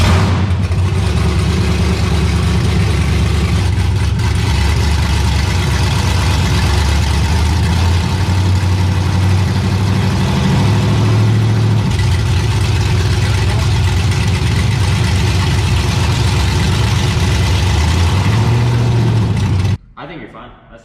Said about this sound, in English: We might as well rev it